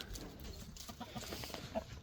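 Chickens in a backyard flock clucking softly and faintly at a distance, a few low intermittent clucks over quiet outdoor background, no talk.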